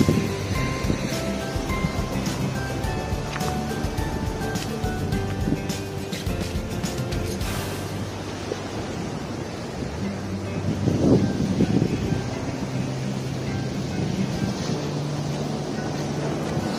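Rough surf rolls and breaks along the shore at a fishing spot in Tamsui, Taiwan, a continuous washing roar mixed with wind buffeting the microphone, with faint background sounds but no clear talk.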